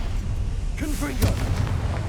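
A blasting spell going off in Hogwarts Legacy, a single muffled boom with a low rumbling tail, heard amid game sound and a spoken voice.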